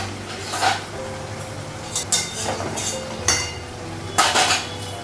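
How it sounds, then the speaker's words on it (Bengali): A kadai is lifted off a gas stove and a tawa is set down on it, with a few clanking metal knocks and clinks in a quiet kitchen, with no talking. "কড়াইটা নামাবো আর তাওয়াটা বসাবো"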